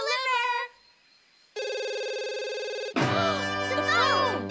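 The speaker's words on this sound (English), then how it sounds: "The phone!" A cartoon telephone rings in a pizza shop, a steady electronic tone that breaks off before a brighter, swooping musical passage takes over.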